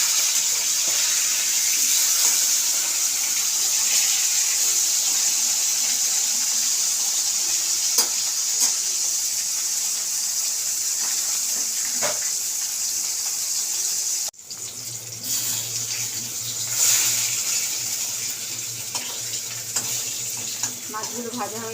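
Fish frying steadily in a pan for a fish curry, giving a continuous broad sizzle with a few faint utensil clicks. Partway through, the texture shifts and a low hum enters beneath the frying.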